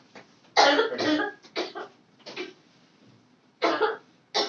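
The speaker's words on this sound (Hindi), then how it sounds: "कब से वो खांसी आ रही है?" A person coughs several times in short, harsh bursts, close by, with brief quiet gaps between fits.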